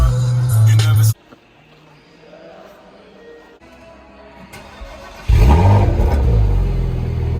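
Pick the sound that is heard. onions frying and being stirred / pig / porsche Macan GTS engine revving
porsche Macan GTS engine revving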